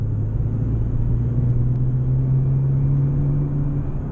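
A Nissan 370Z on the Rockingham circuit runs over track rumble strips, giving a loud, steady low drone and rumble under the engine note, with no talking.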